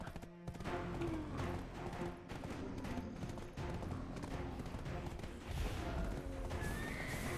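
A horse in the video game Black Desert Online whinnies loudly, with hoof clip-clops and faint game combat sounds around it.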